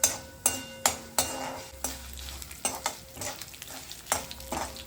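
Urad dal, mustard seeds and cumin frying in a pan for uppupindi: a steady soft sizzle with regular sharp scrapes and clinks of stirring, close up.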